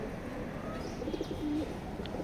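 Pigeons in a racing-pigeon loft give a few soft, faint coos over a low, steady background hum.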